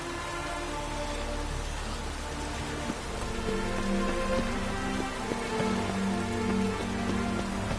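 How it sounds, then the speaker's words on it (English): Steady rain falls in The Witcher 3 video game, a dense, continuous patter on surfaces that grows slightly heavier partway through, with no voices. "It only ever rains these days."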